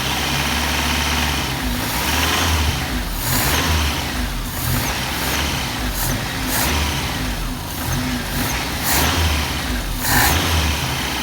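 Tofaş car engine running with a knocking fault, suspected piston slap, revving in surges with a rough, continuous rumble and repeated knocks, loud and close.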